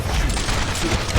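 Rapid, dense burst of gunfire in the Ultimate Alliance 2 video game on PS3, a loud continuous rattle of shots mixed with game noise.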